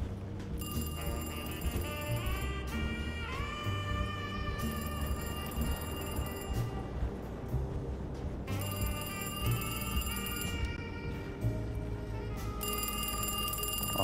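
In the horror video game Alone in the Dark, a telephone rings in several regular bursts over a low, dense musical drone, each ring bright and clear against the gloomy backdrop, with no voices.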